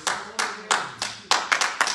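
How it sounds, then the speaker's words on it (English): Church congregation clapping hands together in unison: a series of loud, sharp, close-up claps in an irregular rhythm, roughly eight distinct strikes each with a short decaying tail. "Can we just give the Lord one more hand clap?"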